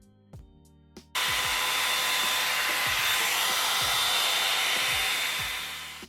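Tymo Volumizer hot air brush blow-drying 4a/b hair, switching on after a few faint clicks into a loud steady whooshing roar of air that runs on without a break, with soft bumps of the brush underneath.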